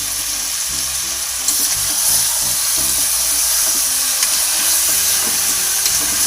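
Chicken pieces frying in hot oil for a country-chicken gravy, giving a loud, steady sizzle with a dense hiss, spattering crackles and a low rumble throughout, swelling slightly louder partway through with no voices.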